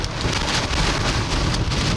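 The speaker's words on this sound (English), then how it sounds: "As we get battered by rain curtains" Heavy rain pounds down during a tornado near Winterset in a dense, loud, unbroken roar with gusty surges.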